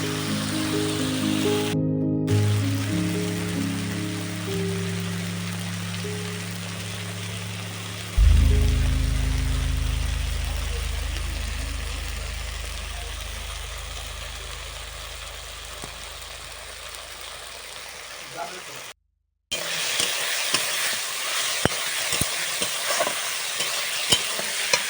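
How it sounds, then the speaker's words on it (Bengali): A spice paste with cloves fries in oil and is stirred repeatedly, making a close, steady sizzle and scraping. A louder hiss swells partway through and gradually fades, then brisk stirring sizzle resumes after a short gap. "লবঙ্গটা দিলে কষিয়ে নিচ্ছি আবারও কিছুক্ষণ ধরে, যতক্ষণ না মশলাটা থেকে বেশ ভালোভাবে তেল ছেড়ে আসছে।"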